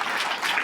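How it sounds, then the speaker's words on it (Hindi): A short burst of dense audience clapping for the judges at an inter-school competition prize distribution, steady and moderately distant. "जोरदार तालियां"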